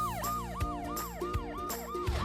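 Cartoon police car siren in a children's animated show, a repeating electronic wail cycling roughly every third of a second, loud and close throughout with faint thumps underneath and no talking.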